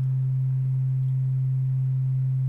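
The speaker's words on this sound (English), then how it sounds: "Notice how the sine wave is kind of opening and closing." A pure sine-wave oscillator on an Access Virus synthesizer holds one steady low tone for the whole stretch, loud and alone with no talking.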